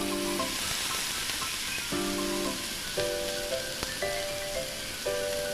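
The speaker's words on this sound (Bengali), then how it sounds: "এবার আমি এর মধ্যে দিয়ে দেব বাঁধাকপি কুচি।" Finely chopped cabbage goes into a pan of sizzling spices for a Bengali cabbage curry, with a steady frying hiss under a tuneful musical backing.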